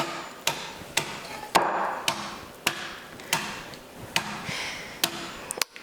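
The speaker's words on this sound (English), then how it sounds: "go ahead and hammer this" Nuts in a bag are struck with a hammer on a kitchen counter for a poke bowl, about a dozen sharp, close thuds at a steady, slightly uneven rhythm.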